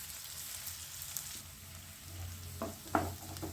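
Chopped capsicum frying with onions in a pan for pav bhaji, a quiet steady sizzle with a few sharper crackles and stirring clatters near the end.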